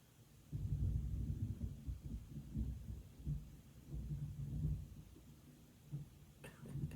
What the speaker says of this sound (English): It's thunder lightning here.